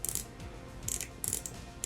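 A Catra toy figure gives off a raspy, mechanical scratching rattle in repeated short ratcheting bursts, close and fairly faint, with no voices.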